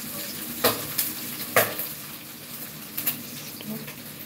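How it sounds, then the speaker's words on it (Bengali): Hot oil in a pan where katla fish is cooking pops and spatters in a few sharp cracks over a steady low sizzle, close up, while faint voices sit in the background. "বাবারে তেলটা কি ফাটছে"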